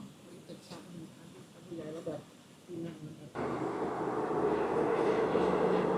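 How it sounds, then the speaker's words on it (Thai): A long multi-car train rolls past near Ayutthaya, a broad steady rumble that swells suddenly to a loud, sustained roar after a few seconds of quieter ambience with people talking. "รถไฟ บายบาย"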